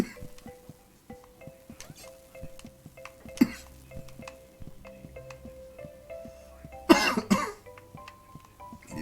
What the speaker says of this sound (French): Allez, ça me fait tousser.